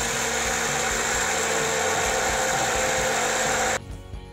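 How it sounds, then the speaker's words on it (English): Hand blender whirring steadily through a banana and oats smoothie, loud and close, running continuously for nearly four seconds before cutting off abruptly. "I am using my hand blender."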